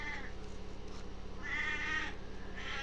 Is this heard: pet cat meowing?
yes